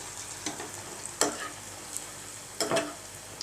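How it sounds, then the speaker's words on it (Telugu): Bread pieces frying in oil for a sweet bread halwa give a low, faint sizzle, broken by a few sharp utensil clinks and scrapes, with no one talking. "అన్నీ ఇలాగే వేయించుకోవాలండి"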